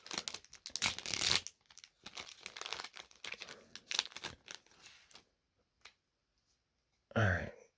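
Packaging noise from a Throne of Eldraine Magic: The Gathering booster pack torn open by hand, close and crinkly, with broadband rips and crackles across the first five seconds, a pause, then a short sharp final tear.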